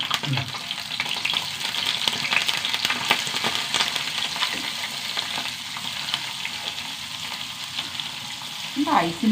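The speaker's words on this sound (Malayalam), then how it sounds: "ഉണക്കമീനൊന്ന് വറക്കാം." Dried fish frying in a pan, a steady crackling sizzle with occasional stirring scrapes, close and continuous.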